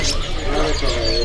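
Cipow birds chirp and call in a busy bird market stall, with bright tonal notes over a dense, steady background of crowd noise and nearby talk.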